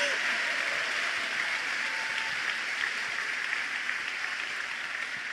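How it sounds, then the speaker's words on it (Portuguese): A church congregation applauds during a revival sermon, a dense, even wash of clapping that holds steady at a constant level from start to end, with no distinct speech over it. "Para quem foi esse aplauso?"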